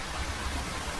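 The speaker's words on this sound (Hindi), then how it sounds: "बारिश बहुत तेज थी।" Heavy rain falls steadily in a dense, even wash of noise with a low rumble beneath and no clear individual drops.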